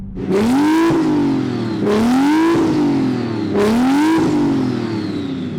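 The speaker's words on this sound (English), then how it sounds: "So Ricky, can you rev up your car?" A car engine revs sharply three times, each rev climbing to a loud raspy howl then easing off, close and alone with no talk.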